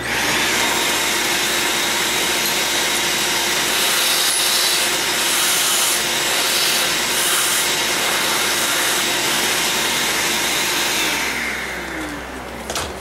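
A loud, steady vacuum cleaner roar runs continuously while cleaning out engine cylinder heads on a 383 engine build, dropping off slightly near the end.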